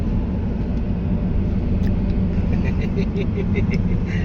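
A car driving along a road in Botolan, Zambales, heard from inside as a steady low engine and road rumble, with faint high chirps and brief voices in the background.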